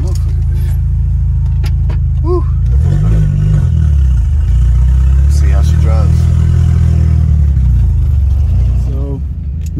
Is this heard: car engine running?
yes